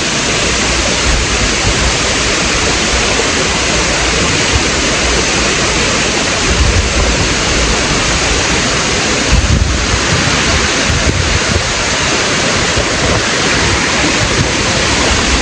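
Demala Ella waterfall in Sri Lanka sends up a steady, full roar of falling water, constant and close throughout, with a few low bumps of wind or handling and no voices.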